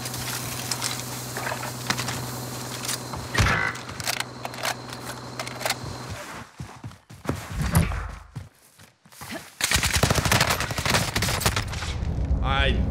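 Rapid video game gunfire rattles through a gunfight, a close dense burst of automatic shots followed by scattered single cracks, footstep-like patter and short pauses, with loud sustained shooting returning at the end.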